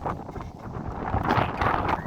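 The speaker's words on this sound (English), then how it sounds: "Man, it's windy out here." Gusting wind buffets an outdoor microphone beside a Chevrolet truck with a 5.3 engine and GT500 Eaton M122 supercharger, a soft rushing roar that swells louder toward the end.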